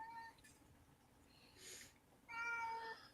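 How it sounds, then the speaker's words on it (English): A house cat meows a couple of times close by, with short mid-pitched calls separated by brief quiet gaps and a faint background hum. "I hear the cat."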